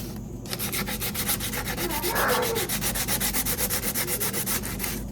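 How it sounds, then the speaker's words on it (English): Sandpaper is rubbed briskly back and forth over a wooden spoon in a steady rhythm of close, scratchy strokes that continues for several seconds with no talking. "So I'm just going to sand it until I feel that it's smooth."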